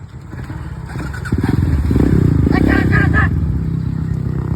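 Motorcycle engine running steadily, loud and close, building up around the midpoint as it pulls away, with a voice talking over it in Sundanese.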